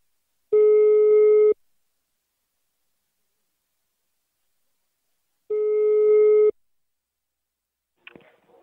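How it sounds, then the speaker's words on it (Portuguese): A telephone ringing tone sounds during an outgoing call, two clean one-second buzzes several seconds apart, then a brief click as the line picks up. "Tá chamando, Rejane."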